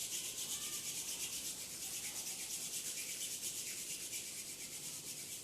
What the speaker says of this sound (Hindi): दोनों हाथों को रब करेंगे